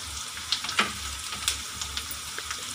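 Onions fry in a pan for a soya chilli dish, a dense close sizzle with brief crackles and a couple of stirring taps, no voices.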